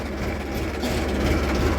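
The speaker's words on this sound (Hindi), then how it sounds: "वाह क्या शानदार आवाज है ट्रैक्टर" A Ford tractor engine runs in the fields with a continuous heavy, low rumble. It is steady and close throughout, with no break in the sound.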